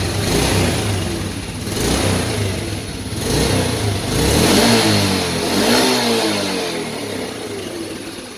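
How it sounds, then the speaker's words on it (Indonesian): A Yamaha Vega Force motorcycle engine, which is hard to start, idles and is revved lightly in a few gentle swells. It is close and steady, with no talk. "Saya coba gas-gas di tipis-tipis."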